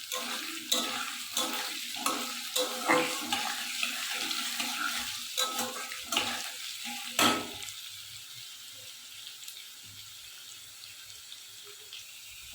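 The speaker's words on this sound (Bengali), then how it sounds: "হালকা ভাজা হোক।" Cabbage frying lightly with a little turmeric in a pan, stirred with rhythmic scraping and clatter for about seven seconds over a soft sizzle, then the stirring stops and a quiet steady sizzle carries on alone.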